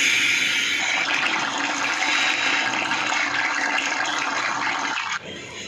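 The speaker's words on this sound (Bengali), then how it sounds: "এখন দিয়ে দিচ্ছি কড়াইয়ের মধ্যে সরষের তেল। ফোড়ন করে নেব।" Dried red chilli and five-spice seeds sputter loudly in hot mustard oil in a kadai, a dense steady hiss and crackle that runs for several seconds before dropping off abruptly near the end.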